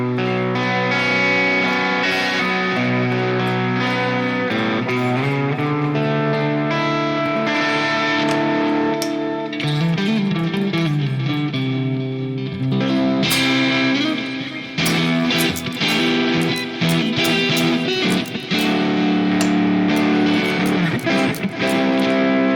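An electric guitar runs through a Marshall amp model on a Nux MG-30 at a light crunch setting, playing sustained chords and melodic lines with mild distortion, alone and steady for the full passage.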